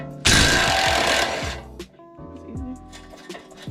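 A pneumatic impact gun hammers loudly on the 16 mm top bolt of an Audi A6 suspension during a coilover install, one sustained burst of about a second and a half, followed by quieter clinks of tools and parts.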